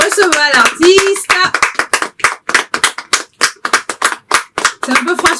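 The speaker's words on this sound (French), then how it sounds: "On acclame pour recevoir l'artiste." An audience on a French TV show claps to welcome an artist onto the stage. A voice is heard briefly at the start, then a rapid run of sharp, close claps fills the rest of the clip.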